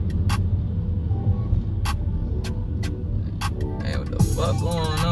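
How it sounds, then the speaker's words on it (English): Low, steady rumble of road traffic from idling and passing vehicles under someone talking, with several short sharp clicks and a burst of higher voices near the end. "Oh, it's some fucking traffic."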